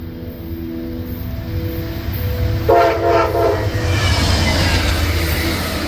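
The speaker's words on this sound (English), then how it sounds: "for Amtrak train P283 to pass on its way to Rochester" An Amtrak passenger train bound for Rochester rumbles past nearby with a loud sustained horn blast partway through, wheels clattering steadily over the rails.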